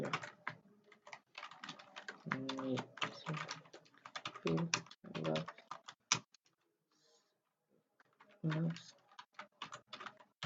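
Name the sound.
typing code on a computer keyboard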